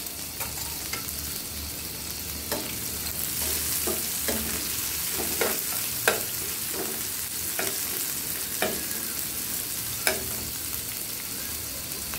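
Onion and garlic fry steadily in a pan for a Bengali kochu shaak dish with hilsa fish heads, a continuous close sizzle broken by regular sharp scrapes and taps of a spatula stirring, with no talking.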